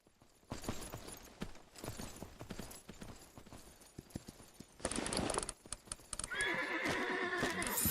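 Several horses in Myth of Empires neigh and gallop nearby, with pounding hooves and loud whinnies over busy battle noise, the sound rising toward the end.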